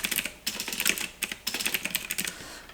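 Rapid typing on a computer keyboard while writing a document in Scrivener, bursts of close, crisp key clicks separated by brief pauses, with no talking.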